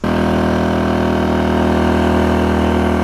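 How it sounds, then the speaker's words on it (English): An AIVOLT 1600 W inverter generator runs under load powering two grinders, giving a steady, loud, continuous engine drone with a constant hum and no talk. "We're gonna turn on the second grinder. We're gonna see another drop. Okay, so we've got both on."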